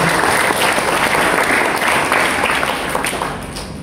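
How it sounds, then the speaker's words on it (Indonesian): A church congregation claps loudly and steadily during a worship service, a dense, sustained applause filling the room from start to finish. "Kasih tepuk tangan buat Tuhan."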